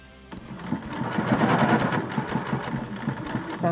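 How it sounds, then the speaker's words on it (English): A domestic sewing machine stitches along a seam in fabric, starting after a brief pause and running in a steady, fast rhythmic whir of needle strokes, close and fairly loud, with no voices. "of my fabric is in line with the 2 centimeter marker on the plate of my sewing machine, and I'm then just going to stitch along to the first marker"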